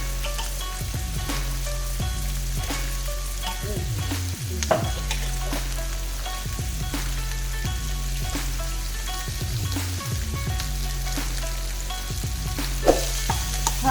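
Vegetables fry in a pot for beef bulgogi, a continuous close sizzle with scattered spoon clicks and stirring scrapes over a low steady hum.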